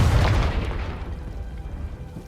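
A Confringo fire-blast spell bursting in Hogwarts Legacy, a loud booming explosion at the start that decays into a long rumbling tail.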